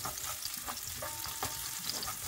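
Onions sauté in a pan for ginisang sardinas with patola and sotanghon, giving a continuous loud, close sizzle with soft stirring clicks throughout.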